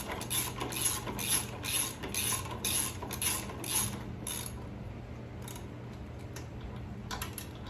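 A ratchet snugs down front brake bolts on a 2001 Harley-Davidson Electra Glide, giving quick bursts of rapid clicking for about four seconds and then a few sparse faint clicks near the end.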